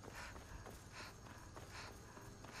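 Horse hooves walking in the Skyrim video game, a repeating clip-clop of several steps at an even pace, moderately close and fairly quiet over a steady game background hum.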